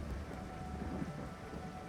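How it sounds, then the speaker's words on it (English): Steady rain falls in the Farming Simulator 22 video game, a continuous even hiss with low rumbling underneath, like a downpour with distant thunder, and no voices. "No, it's raining!"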